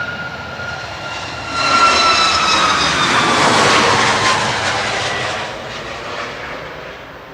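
A Boeing 737 MAX 8 jet departs Manchester Airport, its engine roar swelling loudly, holding, then slowly fading as it climbs away, with no talk.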